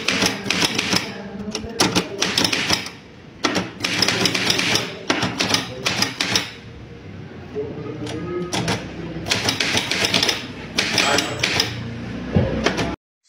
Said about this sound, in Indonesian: Tolong kau ketik teks proklamasi ini.